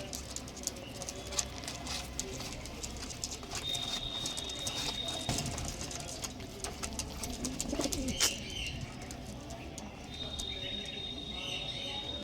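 Pigeons, star-marked fancy breeds, kept in a loft, with soft cooing, light fluttering and scattered pecks and scrapes over low background noise and occasional faint speech.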